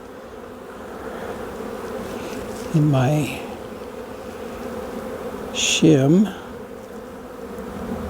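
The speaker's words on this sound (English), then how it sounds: "the bees are definitely bringing something in" Honeybees buzz steadily around a hive during an early spring inspection, a dense insect hum throughout with louder passes as bees fly close, while a person speaks briefly.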